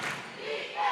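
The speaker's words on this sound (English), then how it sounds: "As you can hear this Santa Rosa crowd really getting into this game" Basketball crowd in a gym at a Santa Rosa vs San Antonio Cole 3A regional semifinal, a dense roar of cheering and yelling that swells louder near the end, with no clear single voice.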